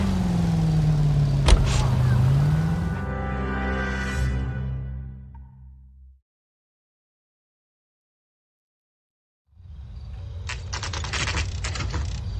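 Car engine hum in the L.A. Noire video game, with a steady low drone and a rising tone early on, fading to silence midway before noisy rattling activity returns.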